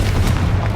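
A single close Confringo fire-blast explosion in Hogwarts Legacy, a deep booming burst with heavy low rumble filling the whole short moment.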